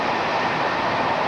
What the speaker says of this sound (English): And here we are on a train, not bound for Victoria Station